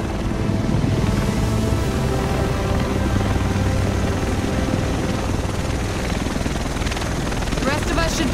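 A helicopter arrives over Manhattan in The Division game with a loud, dense, continuous rotor thrum that stays close and steady for the whole stretch.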